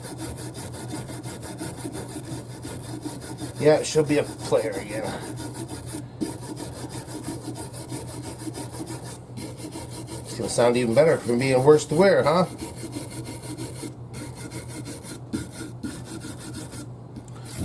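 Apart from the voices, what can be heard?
brush scrubbing a guitar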